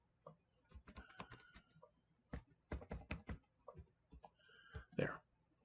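Keys clatter on a computer keyboard in quick close bursts separated by short pauses, quiet and alone.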